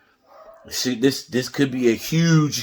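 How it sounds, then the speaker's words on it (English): A dog barks in the background of a room while someone talks over it, its short woofs mixed under the speech and hard to separate from the voice. "I'm guessing y'all can hear the dog in the background."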